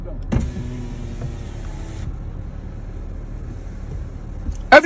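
A car's power window winds down with a steady electric motor whine that starts just after a click, runs for about two seconds, then cuts off, leaving faint cabin noise and a sharp bump at the end.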